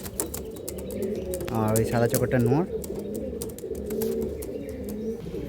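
Loose, uncaged pigeons coo in low, throaty bursts, loudest in a rolling phrase near the middle, while someone talks over them and light chirps and clicks sound around.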